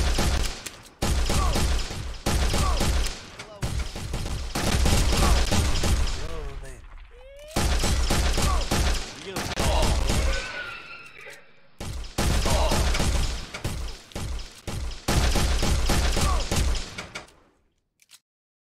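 Rapid volleys of gunfire from the VR western shootout game Saloon Showdown VR, loud and close, in repeated bursts with brief pauses between them.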